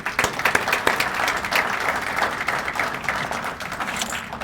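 An audience applauds at a police awards ceremony, sustained clapping from a crowd of many hands at moderate loudness, steady throughout without talk.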